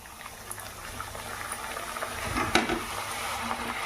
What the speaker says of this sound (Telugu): ఇంకా నూనె కాగిందండి, ఇంక పూరీ వేసుకుందాం.